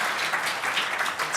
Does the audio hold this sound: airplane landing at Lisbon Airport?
no